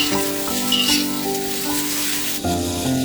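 Soup ingredients, including cut potato, sizzle and hiss steadily in a hot wok for about three seconds while prominent background music plays over the frying.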